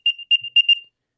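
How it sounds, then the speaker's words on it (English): An Apple AirTag plays its locator beep: four bright, thin electronic chirps in a quick even pattern, close and clean, then silence. "the beep coming from the AirTag"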